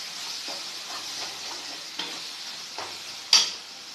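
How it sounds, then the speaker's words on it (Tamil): Spoon stirring ground coriander and chili powder frying in oil in a pan for prawn curry, a steady sizzle with soft scraping strokes at intervals and one sharper clink near the end, no talking. "காரம் நல்லா படுற வரைக்கும் கிளறி விட்டுடுங்க."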